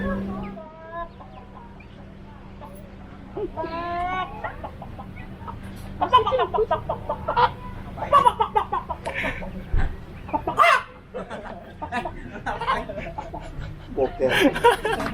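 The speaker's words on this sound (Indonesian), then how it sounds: "Ayam lagi, ayam." Chickens cluck repeatedly close by, with some louder squawks, while people talk over them at a roadside stop on a motorbike trip from Jakarta to Ciletuh.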